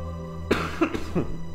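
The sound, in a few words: coughing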